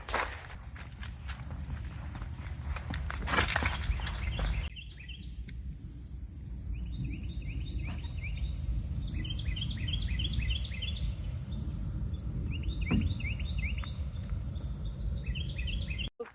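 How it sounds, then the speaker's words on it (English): Birds chirp in repeated short, high trills among trees in a neighborhood park, fairly faint and distant, over steady outdoor ambience and crunching footsteps along a trail. "You can hear the birds."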